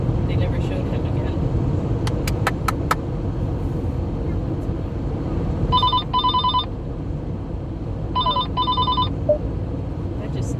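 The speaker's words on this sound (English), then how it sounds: "I don't know why it started ringing like that." A phone rings with a plain electronic ringing tone instead of its usual ringtone, two bursts of double trills spaced a couple of seconds apart, fairly close over a low background hum with clicks beforehand.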